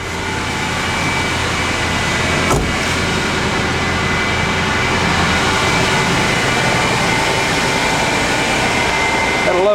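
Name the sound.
car engine running smoothly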